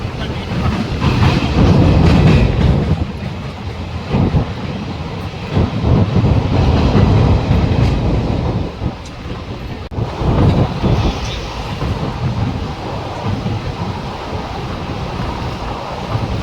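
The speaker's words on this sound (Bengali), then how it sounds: "পাশের যে রেল ব্রিজটা দেখা যাচ্ছে ওটা হচ্ছে পুরনো ব্রিজ, আর নতুন ব্রিজ দিয়ে আমাদের ট্রেন যাচ্ছে" A train rolls across the new Pamban rail bridge by the sea, a steady loud rumble of wheels and carriages with wind rushing over it throughout, and no one speaking.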